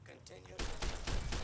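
Gunfire in Fallout New Vegas: a quiet lead-in, then a dense rattle of shots that starts abruptly partway through and keeps going, fairly faint overall.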